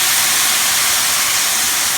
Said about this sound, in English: It's going to be like a stir fry now. You're going to get lots of steam.